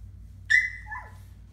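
A child imitates a dog with one short whimpering, whistle-like yelp that falls in pitch and trails off into a softer whine, over a low steady background hum.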